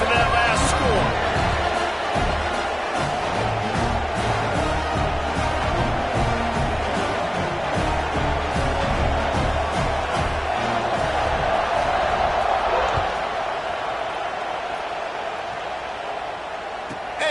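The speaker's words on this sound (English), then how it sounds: "this crowd is buzzing after that last score" A stadium crowd in Madden on PS5 murmurs and roars steadily after a touchdown, a continuous loud wash of cheering and chatter with scattered thumps throughout.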